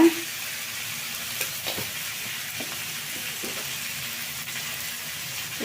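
Pea gravy masala frying in a pan on low heat, a steady soft sizzle and hiss with a few faint scrapes and stirs, no voices.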